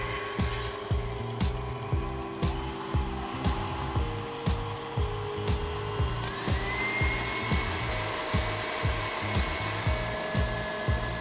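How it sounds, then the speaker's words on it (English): Egg whites being whisked toward stiff peaks for marshmallows, a steady motor-like hum with regular rhythmic pulses of the whisk beating through the bowl, close and continuous. "I'm just going to start whisking my egg whites"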